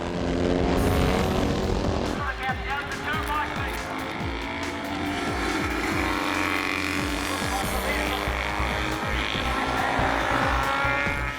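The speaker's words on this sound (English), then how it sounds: "First the Norton, and then Cooney's Moriwaki passed the early leader." Norton and Moriwaki Kawasaki classic racing motorcycles at the Barry Sheene Classic 2014 in New Zealand, their engines roaring past in pitch-shifting sweeps at moderate distance beneath continuous race commentary.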